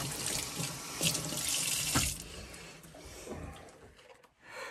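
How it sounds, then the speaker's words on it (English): Water runs steadily from a tap into a sink as hands are washed beneath it, a loud continuous splashing stream with brief shifts in the flow before it tapers off. "this is us washing our little hands here"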